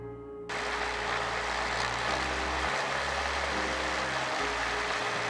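A small airplane engine held at 2,000 RPM during run-up, a loud steady low drone with a slight dip in pitch partway through, heard from the cockpit with no talk.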